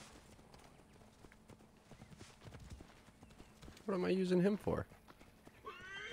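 Hooves clip-clop softly as a horse approaches in Assassin's Creed Origins, then a loud, close neigh cuts in near the end, with someone talking quietly over the scene.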